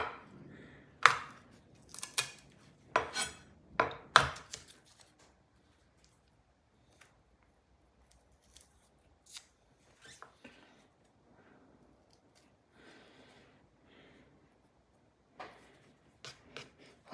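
A knife chops garlic cloves on a cutting board in a home kitchen, giving a quick cluster of sharp, close taps at first, then sparse, quieter cuts with pauses between them.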